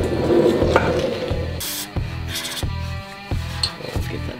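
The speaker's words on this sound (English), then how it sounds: "So after using WD-40 on all the nuts" Short hissing bursts of WD-40 aerosol sprayed onto nuts during a header and front pipe install, several in a row, close by, with some scraping and rubbing between them and no talking.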